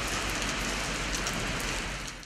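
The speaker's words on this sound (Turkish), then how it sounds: "Sabah saatlerinden itibaren Erzurum'da sağanak etkili oldu." Heavy downpour over the city centre of Erzurum, a dense, loud, unbroken hiss of rain hitting streets and surfaces with no voices.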